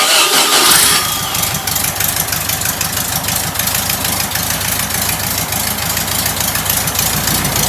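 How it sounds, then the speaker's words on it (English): A small air-cooled VW engine cranks and catches, then settles into a steady, rattling idle that runs on loudly and close with no talking. "This is the engine that was on the sidewalk, and it's back. It's alive. It's running."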